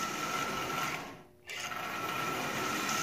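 A Marx 999 toy train locomotive's small electric motor, its armature likely coated in oxide, runs with a steady buzzing whir that briefly dips and then recovers, close and alone.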